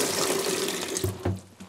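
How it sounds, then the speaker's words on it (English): Water from an old toilet being changed is poured into a bucket, a short close splashing gush that ends in a few final drips and sloshes. "we can just lift this up, pour that water in there"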